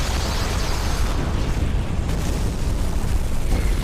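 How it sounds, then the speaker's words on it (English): Rocket launcher blast from a Resident Evil game, a loud, sustained broadband roar of explosion and rumble filling the whole stretch with no talk over it. "the rocket launcher."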